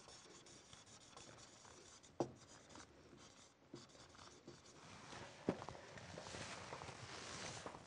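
Writing on a board during a maths lesson in a classroom: steady scratchy strokes with a couple of sharp taps, quiet and continuous under a faint room hum, with no talking.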